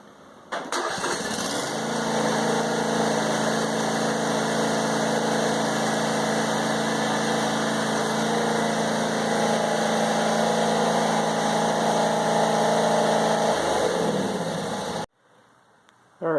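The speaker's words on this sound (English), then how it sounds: "back the tractor back off the ramp" A John Deere E180 garden tractor engine runs steadily and loudly at close range for about fourteen seconds while backing off a ramp, a low droning hum that cuts off abruptly near the end.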